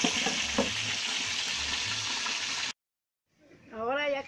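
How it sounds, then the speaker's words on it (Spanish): Fried chicken in green salsa simmers in a pan, giving a steady bubbling sizzle that cuts off abruptly into silence, followed by someone speaking briefly near the end. "Solamente hay que dejarlo hervir unos 15 minutos para que ya esté listo."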